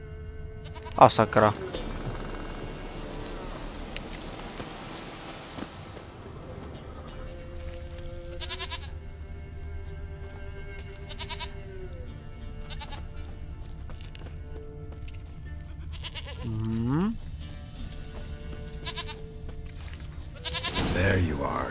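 Goat bleats in The Witcher 3: Wild Hunt, a few wavering cries amid game music and ambience, with someone talking over much of it.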